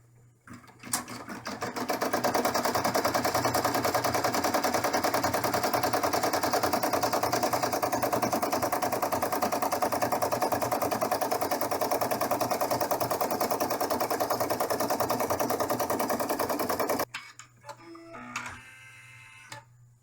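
An embroidery machine stitches a seam on an in-the-hoop camper bag with a loud, steady, rapid mechanical chatter for about seventeen seconds, then stops, leaving a few faint clicks and handling sounds.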